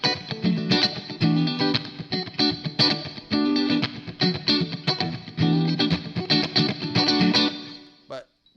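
Rhythmic, choppy electric guitar strumming with a clean, bright funk tone and some effects, played steadily before stopping abruptly at the end.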